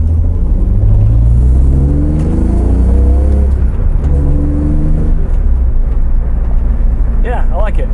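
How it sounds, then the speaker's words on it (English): BMW E46 330 with a new full-length header and exhaust, its engine rising and falling through loud, close revs with a rumbling exhaust note, plus someone talking briefly near the end. "Definitely got an exhaust note."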